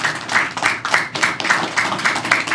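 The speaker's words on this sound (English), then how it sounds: "Yeah, that's actually a good spot for you to clap" An audience claps at a university lecture, a close, loud burst of rhythmic hand claps with regular pulses running the full length.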